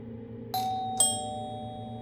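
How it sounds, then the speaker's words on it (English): A doorbell chimes twice in quick succession, two clear bright tones ringing out and fading over a low background hum. "I rang the doorbell again."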